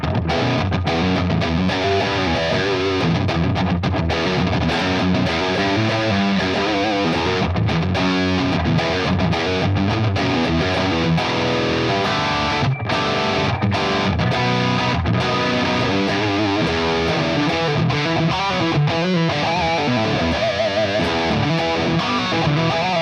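Distorted electric guitar played through a Fractal MF Rectifier preset with delay and reverb switched off, dense high-gain riffing continuing steadily and loud, alone with no voices.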